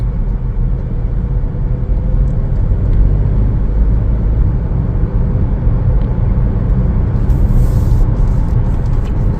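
A 2024 Chevrolet Trax RS travels along a road, giving a steady, loud engine and tire hum that stays constant throughout.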